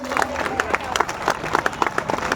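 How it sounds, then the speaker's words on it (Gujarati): Applause from a crowd welcoming a team on stage at a community entertainment event, with sharp clap bursts and a steady patter of hands, moderately loud with a murmur of voices mixed in. "જોરદાર તાળીઓ સાથે"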